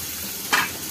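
Grated onion, garlic and tomato fry in a pan with a steady low sizzle, and a brief louder hiss and stir bursts up midway.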